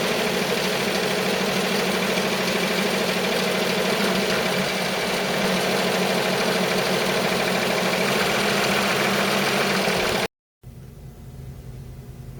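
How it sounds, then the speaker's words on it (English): An embroidery machine runs a tack-down stitch on an appliqué bunny, a loud, steady mechanical hum with rapid vibration that carries on unbroken until a sudden cutoff near the end. "press start, and the machine will now create a tack down stitch and tack that piece down permanently"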